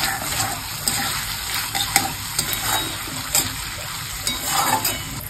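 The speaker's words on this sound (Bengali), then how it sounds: "সস মেশাচ্ছি আমি এখন। Soya sauce মিশিয়েছি," Soy sauce and tomato ketchup being stirred into chicken in a pan, a steady sizzle with repeated scraping and clinking of a spoon against the pan, close and continuous with no talking.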